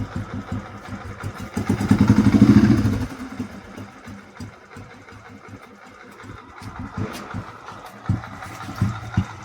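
A Royal Enfield Electric 350 motorcycle idling after a kick start, its steady low thumping rhythm running close by, briefly swelling louder early on, while someone talks over the engine.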